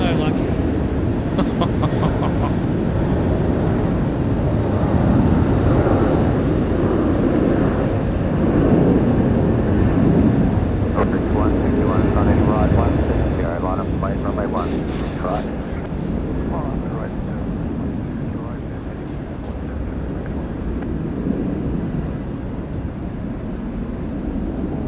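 A jet aircraft passing at night near Sydney Airport, a loud sustained roar that swells and slowly fades, with people talking over it at times.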